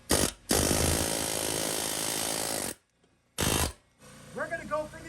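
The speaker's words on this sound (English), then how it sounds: "he's gonna try the air hammer technique and try to drive that bushing out" A loud, harsh air hammer burst driving out a suspension bushing on a 3rd-gen Toyota 4Runner runs for a couple of seconds, stops, fires again briefly, then fades to quiet background voices.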